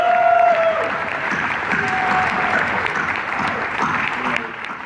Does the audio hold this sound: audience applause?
yes